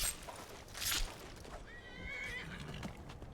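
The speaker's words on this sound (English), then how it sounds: "Oh, horsey." A horse in the video game Skyrim lets out a drawn-out whinny midway through, with a light clatter of hooves around it. The sound is moderately soft and heard alone without talk.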